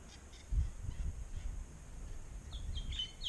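Rainbow lorikeets raid a neighbour's nectarine tree in a backyard, giving off a few faint, shrill squawks from a distance. The calls bunch up toward the end over a low, steady outdoor rumble.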